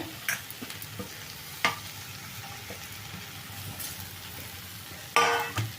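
Chopped cabbage tumbling into a hot pan for cabbage kurma, a soft steady sizzle with a few brief clattering stirs and scrapes standing out, no talking.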